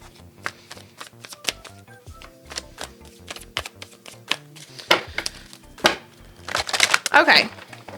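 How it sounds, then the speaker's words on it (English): Tarot cards being shuffled by hand, a run of crisp irregular riffling snaps and taps, close and moderately loud, with a burst of quicker shuffling near the end. "I feel like my shuffling isn't lending to the cards"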